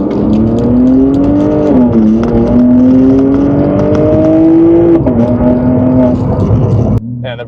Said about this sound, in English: So we're in fourth gear, you just put your foot down, turbo takes it, and then boom, you're going.